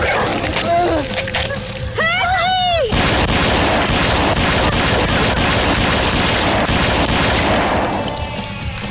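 A couple of rising whistling tones, then a long, loud burst of rapid gunfire that rattles on for several seconds before easing off.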